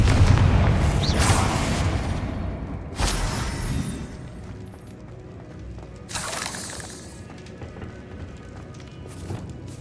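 Confringo blasting spells explode in the Hogwarts Legacy video game: several heavy booms with shattering debris, spaced a few seconds apart and fading into rumbling between blasts.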